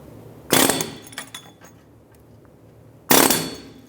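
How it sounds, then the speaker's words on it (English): An air hammer used on a 2008-2013 Nissan Rogue rear wheel hub gives two short, sharp metallic bursts a few seconds apart, with faint clinks between them and no talking. "Now what I'm going to do is I'm going to use my air hammer."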